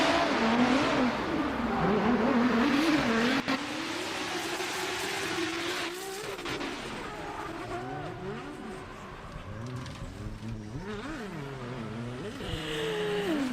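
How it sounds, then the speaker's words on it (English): A Spec-D race car engine at a Mission Raceway Park competition revs and accelerates hard on track, loud and continuous with rising and falling pitch sweeps as it shifts, with brief tire squeal and skidding. "you'll see this car really start to open up, so we'll let you enjoy the acoustic sounds here, Zendara Kennedy."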